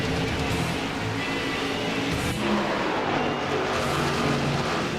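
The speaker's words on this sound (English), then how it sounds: "You hear that, ladies and gentlemen? It's cars on track" Stock car engines roar continuously on track in a Roblox racing game, a dense, steady wash of engine noise with no breaks, moderately loud and without talk.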